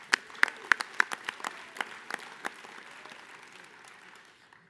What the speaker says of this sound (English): Another round for a round of applause for Jesse.